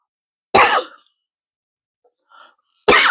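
A single loud, harsh cough bursts out near the mic, followed by a faint breath or murmur and then a second strong cough right at the end, with silence between them.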